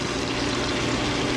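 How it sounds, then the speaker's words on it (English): Water hose spraying steadily onto tumbled coins in a strainer outdoors, a continuous close rushing splash with no talk. "We're going to take it to the water hose. Turn the hose on."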